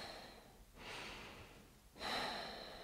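A person breathes in while a tape measure sits around the body for drafting a skirt pattern. Two soft, airy inhalations sound close and quiet, with a short gap between them.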